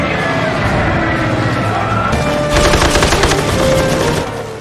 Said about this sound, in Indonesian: pasukan pesawat tempur milik Nassib menghujani mereka dengan tembakan beringas